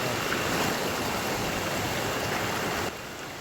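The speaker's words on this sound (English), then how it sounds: "It's a good bend in the river or the deep hole." A river rushing at a bend in Costa Rica, a steady broadband wash of flowing water close by, continuous and loud, slightly quieter near the end.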